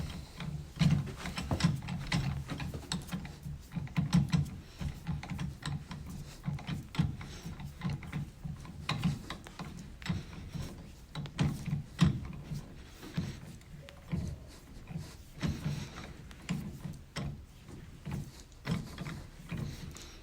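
Manual high-pressure test pump with a piston and two adapters being worked steadily, giving a continuous series of soft mechanical clicks and pumping strokes throughout, faint and close with no talk.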